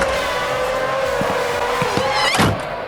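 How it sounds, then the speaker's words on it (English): Loud V12 Formula 1-style race car engines in Gran Turismo 7 at Laguna Seca whine at high pitch, holding a loud steady drone with brief shifts and a rising sweep near the end. "the cars at choice are these very loud V12 F3500-A Formula 1 based cars"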